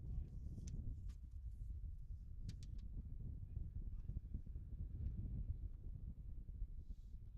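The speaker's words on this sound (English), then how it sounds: "The wind is really starting to pick up here at Ashland High School." Steady wind rumbles across the microphone at a high school baseball field, a continuous low buffeting roar with a few faint clicks and distant sounds on top.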